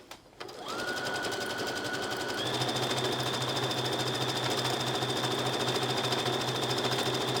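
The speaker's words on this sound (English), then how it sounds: "If you like, you can also top stitch along the bottom edge." A sewing machine top stitches along the bottom edge of a Madeira applique, running at a steady close rhythmic hum that rises a step in speed partway through, with no voices.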